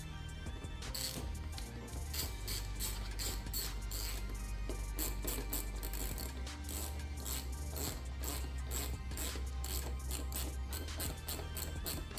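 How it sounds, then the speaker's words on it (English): A hand ratchet tightens the fuel tank bolts on a Ducati Panigale V4, a close, steady run of rapid metallic clicks that continues for the whole stretch with no talk. "next I'm going to go around cinching these bolts down"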